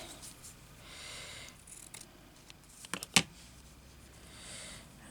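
Scissors snip once or twice through a bit of stitched fabric embellishment, a brief sharp close cut against quiet room noise, with no talk.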